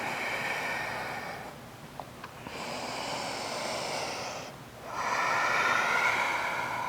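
Deep yoga breathing held in downward dog, two long, close, airy breaths with a brief pause between them, alone and without talk.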